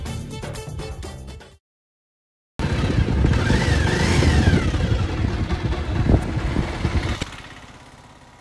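A motorcycle engine runs steadily and loudly for several seconds after a brief silence, with the ride carrying on before fading slightly at the end.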